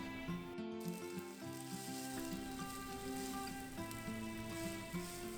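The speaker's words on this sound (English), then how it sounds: "sauteing some firm tofu cubes until golden brown" Firm tofu cubes sauté in a hot pan, a steady close sizzle running throughout with light crackles and tonal music-like bands beneath.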